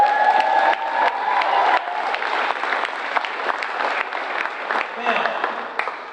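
Audience applause and cheering at a memorial celebration, a dense burst of clapping with scattered whoops and shouts that stays loud throughout the moment.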